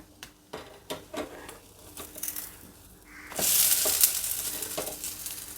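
Soft instant bun dosa batter sizzling in a pan, with a few scrape and tap clicks from the spatula early on, then a louder burst of frying as the dosa is flipped and keeps sizzling steadily.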